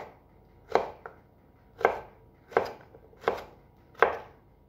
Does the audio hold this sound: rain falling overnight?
no